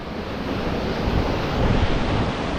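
Sea waves break on the shore at Adgaon, a steady broad roar of surf with wind buffeting the microphone, continuous and close.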